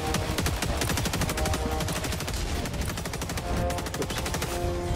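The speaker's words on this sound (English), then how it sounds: "I was blind firing" Continuous rapid automatic gunfire from blind firing in Helldivers 2, loud and dense rattling bursts filling the whole stretch without a pause.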